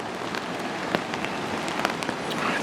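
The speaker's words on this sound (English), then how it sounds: "if the rain slows down a little bit" Steady rain patters on a backpacking tarp, a dense even hiss with scattered sharper drops striking close by, no voices.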